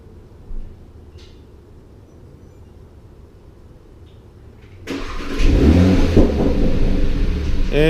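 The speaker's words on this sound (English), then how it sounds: "So we hit Smart Start, takes about 8 to 10 seconds." A 2018 Audi RS3 sedan fires up by remote start after several quiet seconds, its engine catching abruptly and settling into a loud, steady idle rumble close by.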